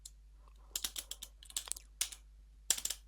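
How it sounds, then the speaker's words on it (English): Fingers type an aircrack-ng command on a computer keyboard, producing bursts of crisp, close key clicks with short pauses between the runs and one final cluster of taps. "So I'm just gonna go ahead and type that in."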